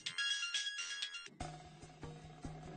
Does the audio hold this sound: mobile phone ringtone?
yes